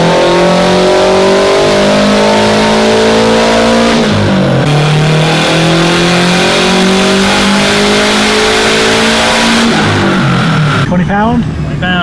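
A Subaru WRX swapped with an STI engine and fitted with an external wastegate revs hard on a dyno, very loud, with rising engine harmonics across two long pulls. Each pull ends with a sharp drop and a wastegate crackle.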